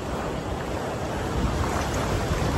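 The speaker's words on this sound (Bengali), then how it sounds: "সমুদ্রের গর্জনটা একবার শুনুন" Sea waves roar steadily at night on New Digha beach, a dense, unbroken wash of surf noise close by with no pauses and no voices.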